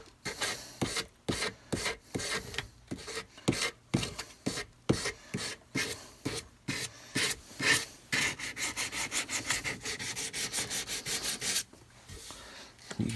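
A 240-grit sanding block is rubbed by hand along a wooden rifle stock for a Lyman Great Plains Rifle, making close, rhythmic rasping strokes that repeat steadily, then quicken into shorter, faster passes.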